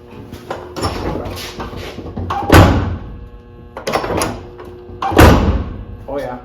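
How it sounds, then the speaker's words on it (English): The door of a rock crawler named Moaby Dick is worked open and shut, giving two heavy metallic clunks with rattling and scraping between them, close and loud over background voices. "Why don't you see if the door opens now?"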